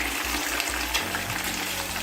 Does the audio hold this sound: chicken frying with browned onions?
yes